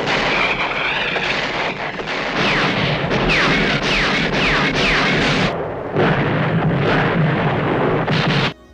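Loud, relentless battle noise from a war film about the end of the war in Europe: booming explosions and artillery blasts crash one after another, with roaring rumble and whooshing debris between hits.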